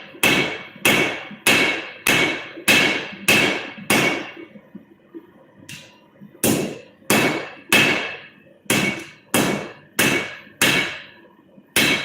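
Heavy hammer blows forging a railroad spike, about fifteen sharp ringing strikes in two quick bursts with a short pause between, loud and close, no voices.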